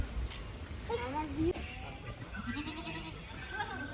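A goat bleats a few times while being fed, wavering cries rising and falling at moderate distance over a steady hiss and faint background voices.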